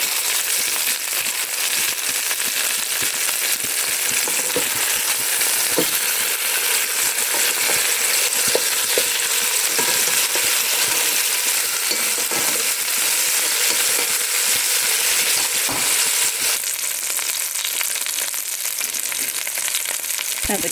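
Seasoned chicken sizzles steadily in a hot pan, a dense continuous frying crackle with occasional soft clicks and shifts as pieces are turned over, close and fairly loud throughout.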